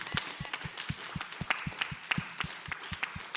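An audience at a panel discussion applauds: steady, brisk clapping from a modest crowd at moderate distance, continuous throughout without voices.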